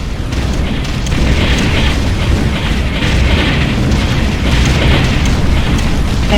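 Loud, continuous explosions and rumbling booms fill the scene as an enemy hoverdyne is destroyed in the strategy game Ground Control. The dense blasts overlap with no break.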